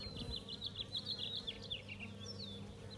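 Honeybees buzzing near a hive among plentiful flowers, with a close, continuous drone and individual bees zipping past the microphone in shifting pitches.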